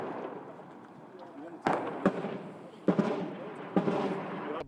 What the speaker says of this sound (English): Soon after, that power was unleashed. In prolonged artillery and mortar barrages.